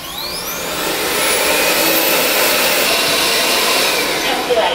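An Uwant Edison 2 Plus robot vacuum whirs loudly and steadily nearby, a rising high-pitched motor whine holding constant throughout.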